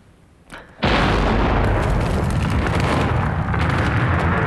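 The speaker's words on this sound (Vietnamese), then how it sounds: "Tiếng nổ của khối bộc phá khổng lồ trên đồi A1" A huge demolition charge explodes suddenly on Hill A1 at Dien Bien Phu, followed by a sustained, thunderous roar and rumble that fills the scene without fading.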